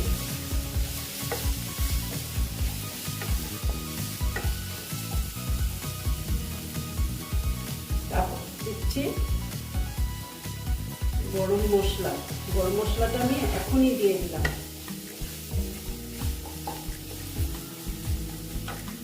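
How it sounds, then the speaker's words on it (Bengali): Chili powder, turmeric and cumin powder fry in a pan for a soybean curry while a spoon stirs them, giving a steady close sizzle with scraping strokes. A voice talks briefly partway through. "তারপরে দিচ্ছি আমি হলুদ দিয়ে আবার একটু নেড়ে চেড়ে নিচ্ছি"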